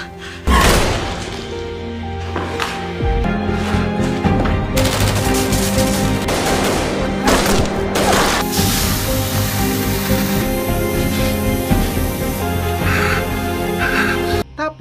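Gunshots in a Korean action film scene as a secret agent fires on a Mossad operative, loud rapid bursts and thuds layered over a tense music score, with brief bits of talk.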